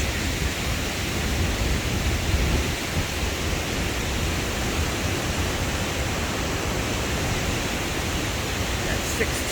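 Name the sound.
waterfall at the Iron Bridge in Yantic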